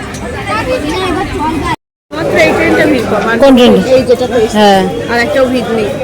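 Dense crowd chatter at a busy outdoor gathering in the rain, a loud, continuous babble of many overlapping voices close by, cut by one brief dropout.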